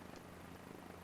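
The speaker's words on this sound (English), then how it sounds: "I'm just having some fun with some helicopters." A helicopter engine and rotor drone steadily and faintly in Microsoft Flight Simulator 2020, a continuous low whirring hum throughout with no talk.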